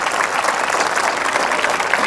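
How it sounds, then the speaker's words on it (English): A crowd applauding steadily at a school's 25th annual athletic meet, a dense, even wash of many hands clapping at once, loud and sustained. "Can we have a round of applause for Shwetang sir?"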